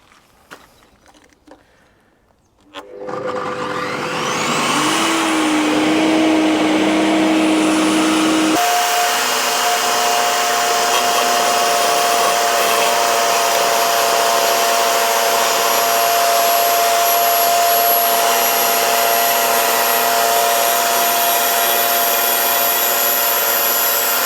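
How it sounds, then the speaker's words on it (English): A Bosch GTS10 table saw starts up and its blade is raised through a plastic zero-clearance insert, a rising motor whine settling into a loud steady high-pitched hum with a brief grinding bite as the blade cuts the plastic. "I just want to basically give it some downward force as I raise the blade up, just to help it cut through the plastic."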